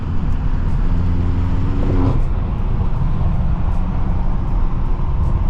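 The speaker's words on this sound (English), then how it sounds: "the car sounds so good because of the weather" A tuned 800HP BMW M6 cruises New York City streets on the FDR, its engine a steady deep drone with heavy road and traffic rumble throughout, constant and close from inside the car.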